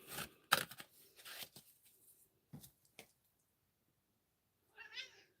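A house cat meows several times in a quiet indoor room, short close cries with a longer, softer meow near the end, separated by brief silences.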